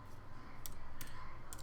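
Fingers type steadily on a computer keyboard during stock-trading software use, with soft continuous key clatter and a few sharper clicks standing out over a constant low background hum.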